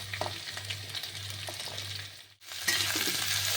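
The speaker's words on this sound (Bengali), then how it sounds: "এটাও সামান্য ভাজবো" Cut snake gourd frying in a pan with already fried potatoes for a poppy-seed dish, producing a close, steady sizzle that dips briefly, then comes back louder and crackling, with no one speaking.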